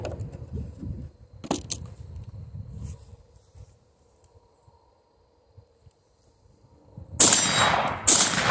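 Blasts from a Panzer M4 shotgun ring against a steel plate rack, with a sharp crack near the start, a quiet stretch, then two loud, close shot-and-clang bursts at the end.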